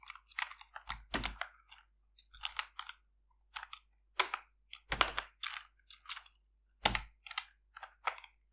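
Keys clatter on a computer keyboard while Python code is typed, in short close bursts of rapid clicks separated by brief pauses, with no voices.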